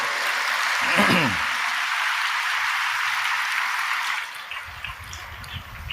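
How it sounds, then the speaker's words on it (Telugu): A church congregation claps together in a burst of applause that swells and then tapers off, with the room's murmur continuing underneath. "నీకు అర్థమైతే చప్పట్లు కొట్టి దేవుణ్ణి మయంపరచు"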